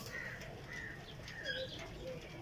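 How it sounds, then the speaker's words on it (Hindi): Pigeons in a Sialkot loft keep up a quiet, soft background of throaty coos, with a few faint higher bird calls rising above a steady hush. There is no clear speech. "ये बड़ा सलारा कबूतर है"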